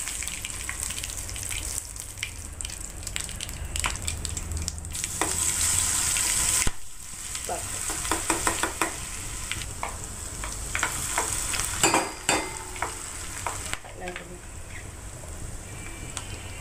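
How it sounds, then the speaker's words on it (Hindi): Hot oil sizzles and crackles steadily as a cumin tempering for dal cooks, with scattered pops and brief clatters of stirring, growing louder as more goes into the pan. "अब दाल का तड़का बन रहा"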